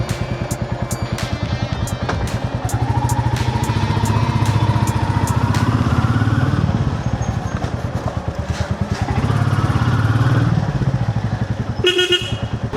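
Royal Enfield Meteor 350 motorcycle engine running steadily, a loud, close, rhythmic single-cylinder thump that swells as it revs around the middle, with a short horn-like blast near the end and no talk.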